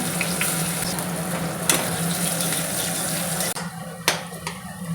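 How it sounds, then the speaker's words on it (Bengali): Garlic sizzles in hot mustard oil with dried chillies and black cumin, a loud continuous frying hiss with stirring scrapes and a sharp clatter near the end, no talking. "রসুন একটু ভাজা ভাজা হয়ে গেছে"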